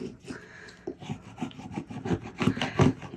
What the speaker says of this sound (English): I had to get my scraper. So now we're going to scrape, scrape,